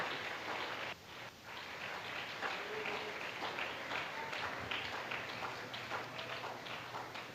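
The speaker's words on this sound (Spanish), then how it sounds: "Dale ese aplauso fuerte al Señor Jesús" A church congregation bursts into strong, sustained applause during a sermon, a dense wash of clapping that stays loud and even throughout, with faint voices mixed in.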